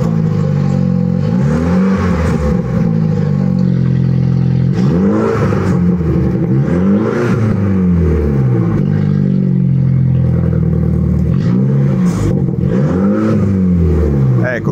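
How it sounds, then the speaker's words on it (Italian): A Mini Clubman racing car engine with an open direct exhaust, revving repeatedly in rising and falling sweeps, loud and close, with someone talking over it throughout. "oppure con lo scarico aperto"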